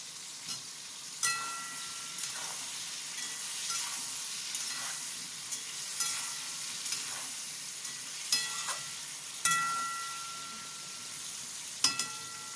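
Eggplant and tomato frying in a pan, a steady bright sizzle with periodic scraping stirs throughout, no talking.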